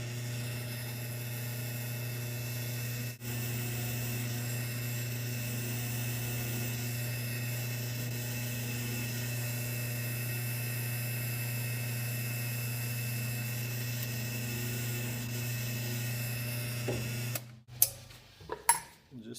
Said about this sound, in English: We'll switch bits and drill a pilot hole and then drill it out to full size.